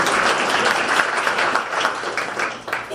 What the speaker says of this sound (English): thank you, tech team rocks, round of applause